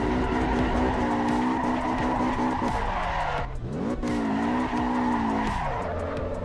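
Engine of a Mercedes race car in a video game racing simulator, a steady loud drone with rising and falling pitch through gear changes and squealing, skidding tyres, no talking.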